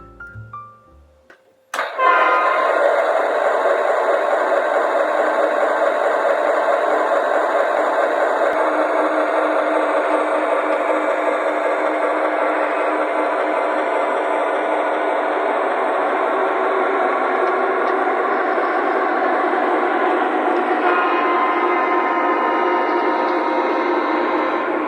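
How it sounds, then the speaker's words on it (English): A model train engine's steady mechanical hum starts after a brief clatter and runs continuously, close and loud, with a faint whine riding over the drone. "Let's get this engine fired up here."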